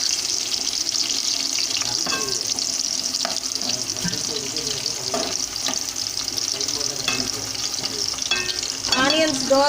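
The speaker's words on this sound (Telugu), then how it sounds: "ఆనియన్స్ దోరగా వేయించుకోవాలండి" Onions sizzle and fry steadily in a hot pan for mutton haleem, with occasional stirring scrapes and a brief burst of water running near the end.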